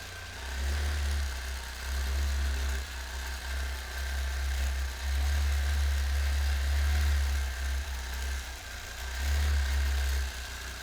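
A quilting machine runs continuously with a steady low hum and a mechanical drone, even and close throughout, with no talk.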